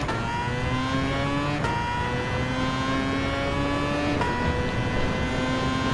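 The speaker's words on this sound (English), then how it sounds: "Feels great to see the sound of the rotary engine again." The rotary engine of a Mazda LM55 Vision Gran Turismo race car in Gran Turismo 7 screams steadily at high revs, its pitch climbing through the gears with two brief drops at each shift, loud and close throughout.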